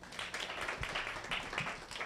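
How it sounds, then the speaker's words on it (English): An audience claps at a talk or community event, producing soft, steady applause that sounds faint and distant, with no talking over it. "Let's clap for them."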